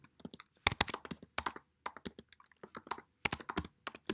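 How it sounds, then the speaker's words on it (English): Fingers tap out a web address on a computer keyboard, a close, irregular run of crisp key clicks in quick bursts with short pauses between. "So if I type this in, cb."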